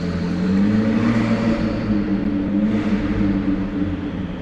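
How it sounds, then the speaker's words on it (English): A McLaren sports car with an upgraded DDE exhaust rumbles steadily nearby, its deep engine note holding a loud, continuous drone with slight swells in pitch throughout. "The way DDE upgraded this with that exhaust that you can hear in the back."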